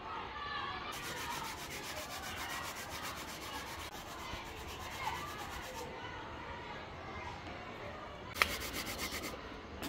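Pumpkin is rubbed against a hand grater outdoors in a backyard cooking setting, giving soft continuous scraping with a couple of sharper bursts, fairly quiet and close.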